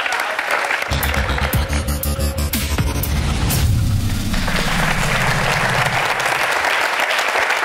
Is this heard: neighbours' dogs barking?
no